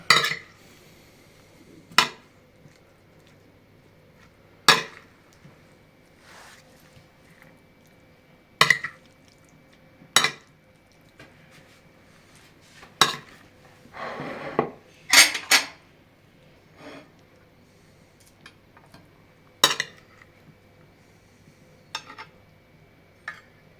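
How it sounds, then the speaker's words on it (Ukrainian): A salad being tossed and mixed before serving, with sharp, irregular clinks of utensils against a dish spaced a few seconds apart and a brief cluster of scraping mid-way, close and alone without talk. "Салатик перед подачею можна перемішати."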